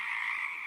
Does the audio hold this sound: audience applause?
no